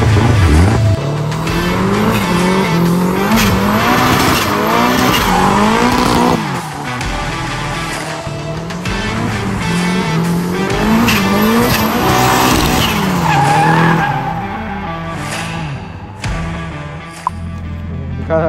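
A car drifting in a practice session, its tires screeching continuously and engine revving hard, with loud squeals rising and falling through repeated slides.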